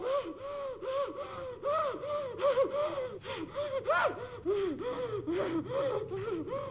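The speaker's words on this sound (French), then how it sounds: "Elle est en train de faire une crise d'hyperventilation" Rapid, panicked hyperventilating gasps in quick succession from a gagged person in The Walking Dead game, close and strained, with voiced whimpering tones on some inhales.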